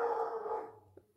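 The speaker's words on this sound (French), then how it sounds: "C'est mon chien qui aboie" A single dog bark or short howl-like yelp heard fairly close, fading out over about a second, followed by a faint brief sound.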